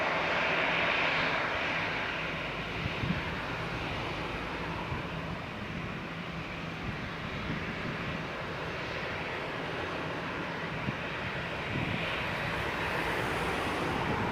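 An Aer Lingus airliner from Dublin roars steadily at Leeds Bradford Airport, a broad, loud engine rumble that holds throughout with no talk over it.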